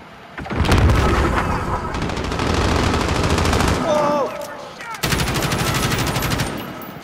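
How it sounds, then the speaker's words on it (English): Rapid automatic gunfire in the video game Modern Warfare, loud and close in long sustained bursts with a brief pause before a final burst, a short tonal game sound between them. "Someone Is shooting from over there?"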